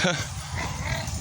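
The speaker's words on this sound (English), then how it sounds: "Whoa, oh, that was a dog." A dog barks suddenly at the start, a sharp close bark that quickly gives way to continuing background noise, with a person's voice present.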